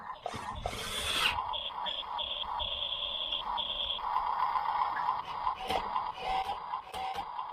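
A small RC skid steer's electric motor whines and strains while lifting a load of wet compost, a steady high-pitched buzz that rises and dips in pitch across several seconds, close up, with scattered clicks and scrapes.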